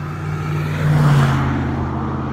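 A single car drives past on a road, engine rumble rising to a close pass at about one second, then fading back into steady traffic noise, with no voices.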